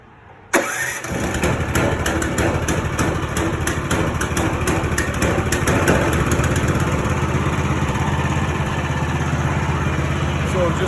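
A 16hp Mudskipper mud motor catches after a brief quiet moment and settles into a loud, steady, buzzing idle that runs without a break to the end.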